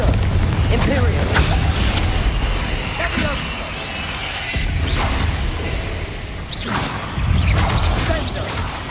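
Spell-casting combat in Hogwarts Legacy on PC: a dense run of magical booms, whooshes and crashing impacts, loud and continuous with repeated swells over nearly nine seconds.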